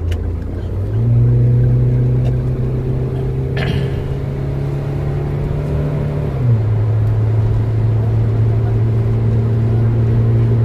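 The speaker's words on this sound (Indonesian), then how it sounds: "Nah, ini kita udah mulai masuk jalan tol ya. Kita tes dulu sebelum menggunakan stabilizernya." Inside a Toyota Rush/Terios entering a toll road, the engine hums loudly and steadily with a low drone whose pitch rises as the car speeds up and shifts, plus road rumble and a brief click, no voices.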